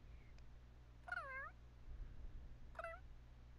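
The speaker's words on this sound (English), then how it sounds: "the cat is currently meowing" A cat in The Sims 3 video game meows twice, each a short, clear, rising-and-falling call about two seconds apart, faint and alone over quiet background noise with no talk.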